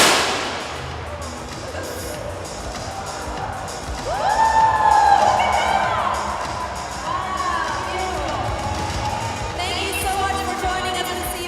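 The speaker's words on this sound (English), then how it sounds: "Let's give them a final round of applause." Audience cheering and applause at a live reveal of the Piaget Polo S, a loud and steady crowd roar with shouts swelling midway and a distant voice underneath.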